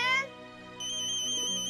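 An electronic phone ringtone plays a repeating melodic tone, steady and moderately loud, with no voices over it.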